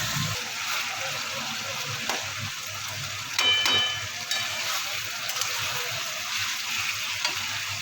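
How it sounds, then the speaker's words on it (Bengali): Chopped onion and garlic paste fry in a pan with a steady, close sizzle and crackle throughout, with a brief scrape or stir partway through. "তারপরে কুচনো পেঁয়াজ দেওয়া হলো, একটু রসুন পেস্ট দেওয়া হলো। এবার ভাজা ভাজা করা হলো।"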